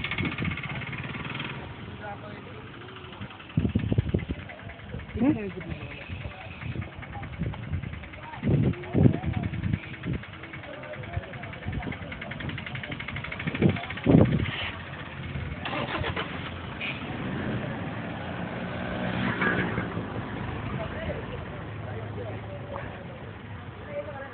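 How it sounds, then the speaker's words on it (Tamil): A vehicle engine cranks and starts, then runs and pulls away, its rumble rising and falling under bursts of nearby voices talking. "வண்டியை ஸ்டார்ட் பண்ணுறோம் போயிட்டு இருக்கிறோம்"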